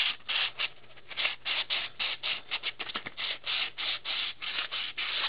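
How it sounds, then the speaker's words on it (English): Sandpaper rubs in quick rhythmic back-and-forth strokes along the inside edge of a plexiglass window for a PS1 console, close and steady, about a dozen scratchy passes with no talk. "I'm going to go back and I'm going to sand this inside edge just a tad here"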